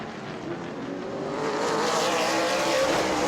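Race cars at an Auburndale weekly racing event roar past close by, the engine noise swelling and growing louder toward the end of a short burst.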